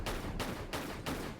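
Pistol gunfire in the video game Tomb Raider 4: four loud, evenly spaced shots, each a sharp broadband crack with a short tail, with no talk over them.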